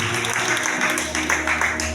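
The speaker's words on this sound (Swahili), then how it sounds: "Pigia Yesu makofi mazuri." A church congregation claps for Jesus during a lively preaching service, a short burst of dense, sustained applause from many hands, with a voice heard alongside it.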